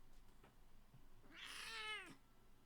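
A single cat meows in Fables of the Feywild, a short rising-then-falling mew near the middle of the clip over a faint quiet background.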